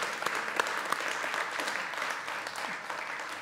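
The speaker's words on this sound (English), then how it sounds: "Give the Lord a clap." Audience at a church conference applauding, a dense, even wash of many hands clapping at moderate distance, steady throughout with faint voices underneath.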